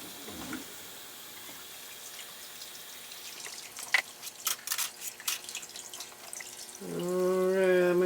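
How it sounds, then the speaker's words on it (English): Water runs into a 15-quart stock pot for chicken broth, a faint steady flow with scattered drips and clinks that swells louder and fuller toward the end. "I'd probably get a little bit more water in there,"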